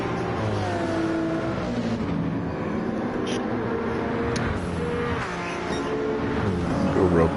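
Several race cars lapping Trial Mountain in Gran Turismo 7, including a Lexus, with engines droning steadily and close throughout, a few pitch shifts from acceleration rising over a continuous dense roar.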